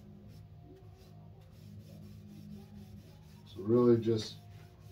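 Finish is rubbed into the wood of a cigar box guitar with a soft, steady, close rubbing, and a voice speaks briefly near the end.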